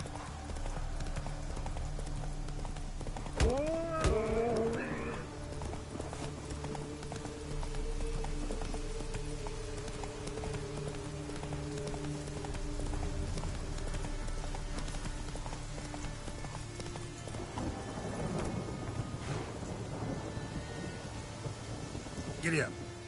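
A horse gallops across open ground in The Witcher 3, its hooves pounding in a fast, steady rhythm, with rumbling thunder and rain in the background.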